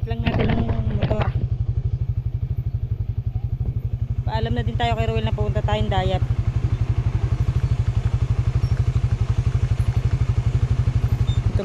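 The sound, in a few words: motorcycle engine idling while warming up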